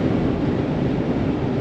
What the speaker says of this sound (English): it's pretty windy actually right now